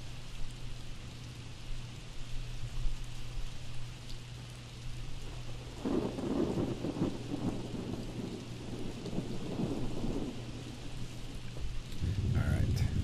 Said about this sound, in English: It's raining, so we'll put on the jacket.